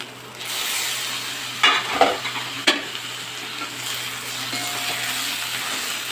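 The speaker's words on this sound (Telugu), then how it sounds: "బెండకాయలు ఫ్రై అయ్యాయి." Okra (bendakaya) fries in a covered pan with a steady, moderate sizzle, broken by a few sharp clinks and clatters of the lid or utensil partway through.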